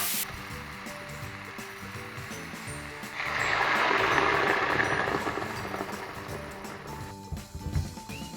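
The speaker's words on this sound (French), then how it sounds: "Et je vais maintenant rajouter l'eau avec" Water poured into dough in a home kitchen, a steady mid-level rushing pour swelling for a few seconds then tapering off over background hum.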